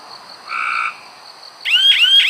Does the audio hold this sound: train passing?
no